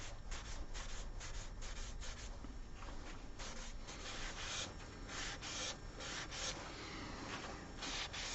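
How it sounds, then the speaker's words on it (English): Cloth rubbing finishing oil into the grooves of a scalloped coloured wooden platter rim, a steady close scrubbing and scraping with rhythmic strokes, no voices. "I'm just going to go over some of that with finishing oil, which will help to remove some of it at the bottom of these grooves"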